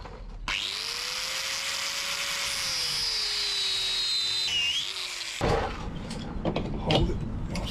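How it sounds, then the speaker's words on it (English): An angle grinder cuts through an 11/16 nut with a steady, loud high whine that holds for about five seconds, its pitch sagging slightly under load, then stops abruptly, leaving clanking handling noise. "I'm just going to cut it with a grinder"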